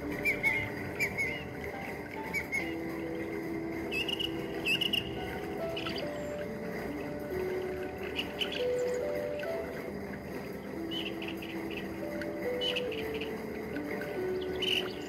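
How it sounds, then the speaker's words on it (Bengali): Birds calling in a calm outdoor nature scene with a fountain, thin whistled chirps recurring over a steady background wash, moderately distant and without speech. "পাখির ডাক"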